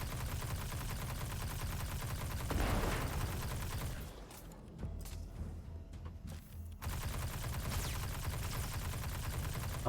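Ricocheting gunfire from a weapon in Destiny 2, fought against Cabal in a Legend Lost Sector: a dense stream of rapid shots and impacts, briefly thinning to sparse pops midway before the barrage resumes loudly.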